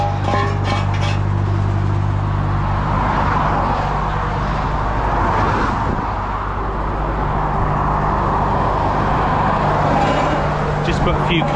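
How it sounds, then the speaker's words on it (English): Refrigeration unit running on an articulated 44-tonne lorry trailer beside a London roadside, a steady loud mechanical drone and hum that fills the whole clip continuously, with passing traffic mixed in. "Fridge is cut in now. That's what that noise is."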